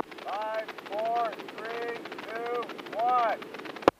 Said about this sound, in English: We'll shoot a flare.